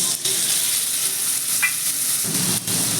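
Spice paste lands on lightly fried potato and papaya in a hot pan, setting off a loud, dense sizzle that holds steady throughout.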